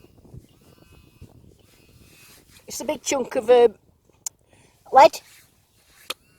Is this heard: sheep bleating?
yes